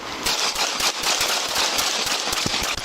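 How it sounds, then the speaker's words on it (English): Rapid gunshots ring out during an armed police call near a school, a loud dense burst of cracks over harsh, noisy background. "Shots fired."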